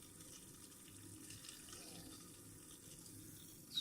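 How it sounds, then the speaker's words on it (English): A PC water cooling loop pump running as trapped air bubbles work out, a faint steady watery hum and gurgle throughout, close and alone, with a small bump at the very end. "The bubbles are working out. See, the pump is getting a little bit more quieter now."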